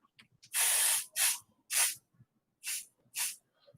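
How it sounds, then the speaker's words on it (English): Pixie spray can fired in five separate bursts, the first a long hiss lasting about half a second and the rest short, sharp puffs spaced out, close and loud with near silence between. "You want to make sure you give it a good zhuzhin of spray."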